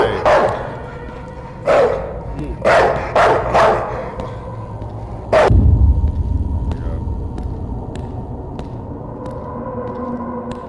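Dogs barking in the horror video game Jumpscare Factory: Night People, several sharp loud barks in quick succession over a low rumbling ambience, then fading into a steady hum.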